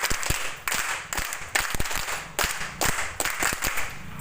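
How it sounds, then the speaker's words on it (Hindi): A group at a gathering of small-business advisor women in eastern Uttar Pradesh claps together in a patterned rhythm, sharp synchronized claps landing in repeated bursts with short pauses between them. "सब लोग इनके लिए ताली बजाइए।"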